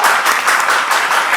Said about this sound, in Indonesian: Tepuk tangan penonton.